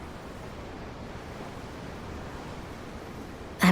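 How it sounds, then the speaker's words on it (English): Steady ocean surf washing below a ship's deck in Tales of Arise, a soft continuous broadband rush with no talk, ending in an abrupt loud burst. "I'm looking at the ocean."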